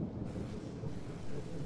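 A thunderstorm rumbles in Genshin Impact, a steady low roll of thunder mixed with rain noise, continuous and fairly loud with no speech over it.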